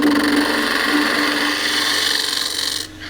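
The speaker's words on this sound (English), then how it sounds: "I'll just get rid of that using the side of the gouge" A gouge cuts a small natural edge wooden bowl spinning on a lathe. The scraping, rushing cut is loud and close, holds steady for nearly three seconds, then drops away as the tool lifts off. No one speaks.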